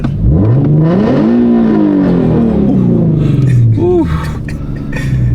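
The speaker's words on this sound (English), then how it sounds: "I can rev it for you" A Chevrolet Corvette C8 engine revs hard, climbing and falling in a loud, close sweep and then giving a quick second blip, with voices faintly underneath.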